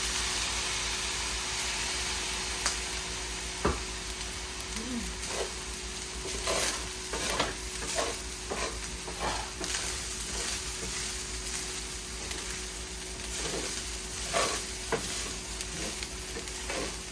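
Shrimp fried rice sizzles steadily in a hot pan with soy sauce just added, a constant frying hiss broken by scattered clicks and scrapes of stirring, close and alone with no talk.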